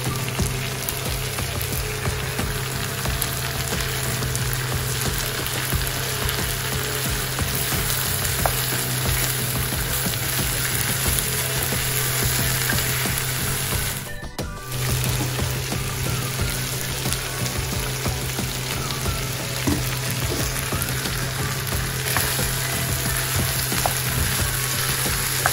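Egg and broccoli stir-frying in a pan with Maggi masala, a steady close sizzle and crackle that runs without a break and dips only for a moment partway through, with no voices.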